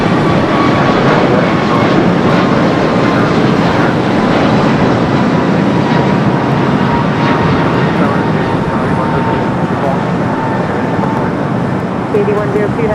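A United Boeing 757 airliner arriving from Chicago O'Hare at Los Angeles airport roars loud and close, a broad sustained engine rumble holding steady throughout with a faint whine on top.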